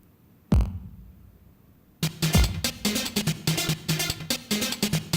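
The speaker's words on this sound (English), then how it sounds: "So this is actually created from my own heartbeat right now." Music generated from a heartbeat by the Pulse app: a single deep thump, then a quiet pause, then a rhythmic run of pulsing beats and tones, moderately loud with no talking.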